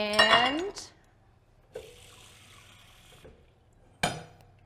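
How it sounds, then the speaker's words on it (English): Water added to a baking dish of chicken and beans, with a clink of glass at the start, a splashy pour, a quieter trickle, then another sharp clink near the end; no talking. "we're adding our water."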